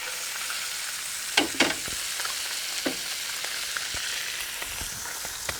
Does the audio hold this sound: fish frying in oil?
yes